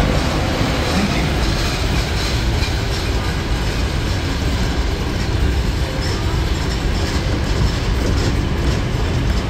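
A Disneyland parking tram rolls along, giving a loud, constant rumble of wheels and motion with a steady wash of wind and road noise throughout, close and enveloping.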